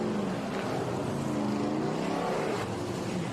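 Stock race cars' engines drone and rumble steadily at Sebring, their pitch shifting slightly as the cars roll past at moderate distance heading onto the track.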